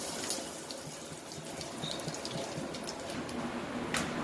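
Asafoetida, salt and mustard seeds frying in hot oil for dhokla tempering give a steady, soft, close hiss with faint crackles, continuous and alone with no talk.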